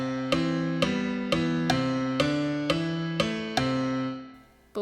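A short musical example in 15/16 time, steady evenly spaced struck notes on a keyboard-like instrument repeating a clipped asymmetric pattern before fading out, with no talking.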